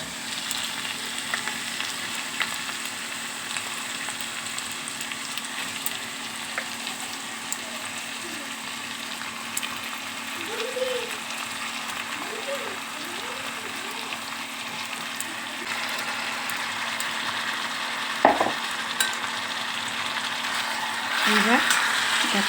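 Chicken fries in oil with onions in a pan, giving a constant soft sizzle with occasional stirring clinks and scrapes. A voice talks quietly now and then over it.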